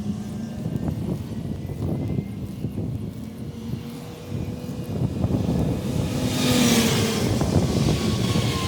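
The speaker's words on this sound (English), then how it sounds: "I'm right up along the highway again, so excuse the noise." Roadside highway traffic rushing past close by, a steady broad roar that swells as a loud vehicle passes near the end, heard outdoors beside an old farmhouse field.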